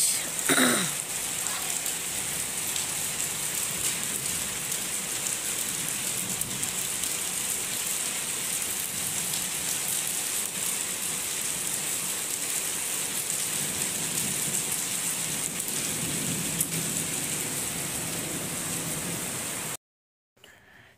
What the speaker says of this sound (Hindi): हमारे यहाँ हो रही है बारिश